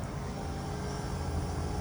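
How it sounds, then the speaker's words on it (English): A brand-new 2022 3-ton AC Pro split inverter air conditioner runs its variable-speed compressor at low speed, a steady low rumbling hum mixed with broadband fan and wind noise, close and continuous. "you can hear what the compressor sounds like. This is at low speed"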